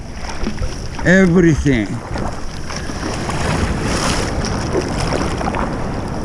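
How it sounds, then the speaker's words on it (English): Arms paddle a surfboard through ocean water, giving a close, continuous swish and splash under steady wind noise, with a brief spoken word near the start. "All those little noises, my arms paddling,"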